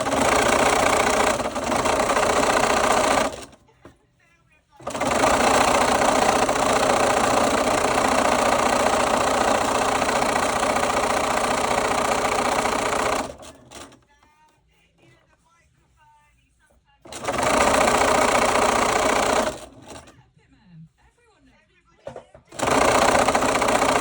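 An overlocker sewing machine gathers a long skirt edge, running in long steady whirring stretches broken by short pauses, loud and close with no talking.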